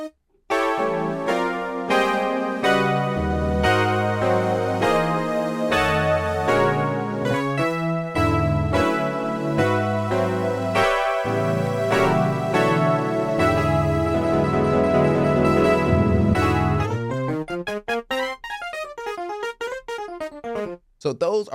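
Yamaha Montage or MODX synthesizer playing a boosted Beast Brass patch, loud, bright brass chords sounding in a steady sequence, then thinning into a swirling, pitch-bending flourish that fades out near the end.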